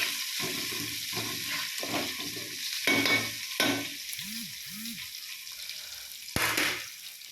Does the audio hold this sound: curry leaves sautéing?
yes